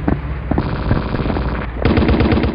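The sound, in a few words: machine gun fire in Battlefield 1942 video game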